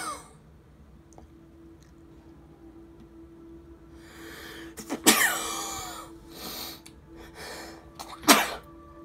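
A person sneezes loudly twice, a sharp burst near the middle and another toward the end, with quieter breathy sounds and faint clicks in a quiet room.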